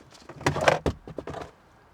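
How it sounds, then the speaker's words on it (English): A Vauxhall Corsa passenger door opens with a close, loud cluster of clunks and latch rattles over about a second, followed by a few lighter knocks and scrapes. "I'm going to open the passenger door"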